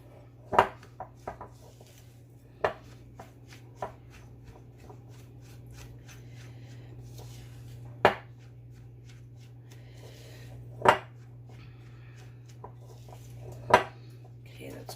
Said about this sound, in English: we're just going to mix this thoroughly until it looks like wet sand